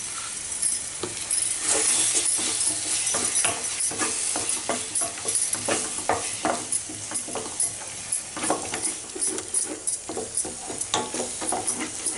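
Masala spices sizzle and fry in a pan while a utensil scrapes and stirs repeatedly, close up, with occasional metallic clinks.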